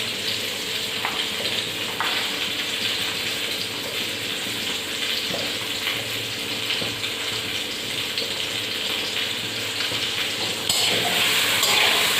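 Potatoes and flat beans fry together in a pan, giving a steady low crackling sizzle throughout, with a few soft clinks and a louder hiss near the end.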